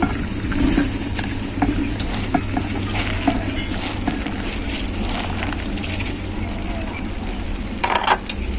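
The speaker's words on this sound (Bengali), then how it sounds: "মশলাটা খুব ভালো করে কষানো হয়ে গেছে আর আমি ভেজানো 3 রকমের ডালটা দিয়ে দেব" Soaked lentils of three kinds are stirred into a hot spice paste in a pan, giving a loud, steady sizzle and frying hiss with scraping stir noises throughout.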